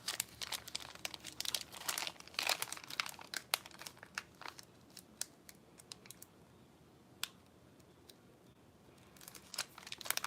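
Paper being folded and crinkled by hand for a craft project: bursts of close, crisp crackling and rustling at the start, a quieter stretch with scattered sharp crinkles, then renewed crackling at the end.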